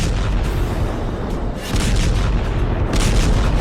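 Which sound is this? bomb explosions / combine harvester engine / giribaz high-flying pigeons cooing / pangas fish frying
bomb explosions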